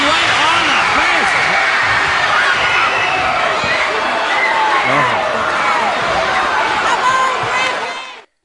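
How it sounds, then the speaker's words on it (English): Loud wrestling crowd at an NWA WCW event in 1986, a dense, continuous roar of cheering and shouting voices that holds steady for about eight seconds before cutting off abruptly. "Now I played it early so that you can hear the crowd."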